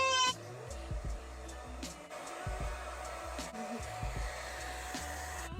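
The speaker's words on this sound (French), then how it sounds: "je prends mon sèche-cheveux et je viens sécher tout ça rapidement" A handheld hair dryer on its cold-air setting blows to dry a hair product quickly. It gives a steady, fairly soft rushing hum of airflow that runs continuously from start to end.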